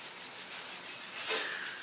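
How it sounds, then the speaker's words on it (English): Palms rubbed briskly together, a soft continuous dry swishing friction that swells slightly near the end, close and quiet with no talking. "Start rubbing your hands together."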